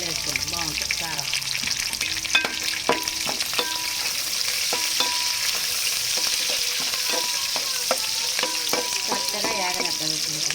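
Onions and four green chillies fry in hot oil for chicken dum biryani, a steady loud sizzle broken by frequent clanking stirs of a spoon against the pan.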